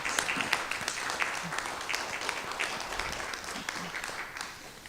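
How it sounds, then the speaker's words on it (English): An audience at an evening youth mental health information session breaks into sustained applause, with dense, moderately distant clapping that carries evenly and tapers slightly at the end. "maybe one more round of applause for all those that are here"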